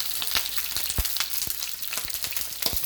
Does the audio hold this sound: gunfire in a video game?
no